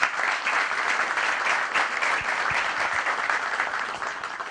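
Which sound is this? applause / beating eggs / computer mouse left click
applause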